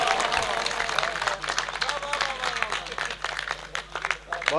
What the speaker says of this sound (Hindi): बजाएं तालियां, बजाएं जी, बहुत सारी तालियां।